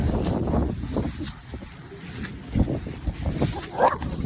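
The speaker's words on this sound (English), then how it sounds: "here comes a fucking dog." A dog barks outdoors in a few short, scattered yelps over rumbling wind noise against the microphone, with a brief whine, fairly near but not loud.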